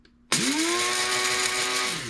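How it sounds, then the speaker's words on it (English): A coffee grinder pulverizing Szechuan peppercorns into flakes starts abruptly after a brief quiet moment, then holds a loud, steady high-pitched motor whine with a dense gritty rattle of peppercorns for about two seconds. "we're just going to throw them in my coffee grinder"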